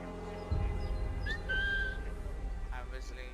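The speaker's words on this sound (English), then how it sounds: "I'm whistling." A character whistles a short tune in the video game Assassin's Creed III, a few clear whistled notes over a low game background hum.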